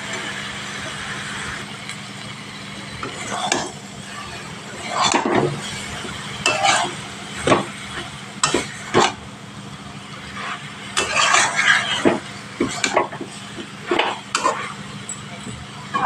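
Cabbage chorchori is stirred in a frying pan, with irregular scraping strokes of the spoon against the pan over a soft, steady sizzle, close and moderately loud.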